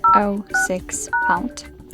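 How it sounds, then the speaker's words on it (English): Keypad tones on a Motorola Moto E6i smartphone as a dialer code is entered: a handful of short, loud, evenly spaced beeps mixed in with a person speaking. "We have to open the dialer and enter the code, which is *##06#."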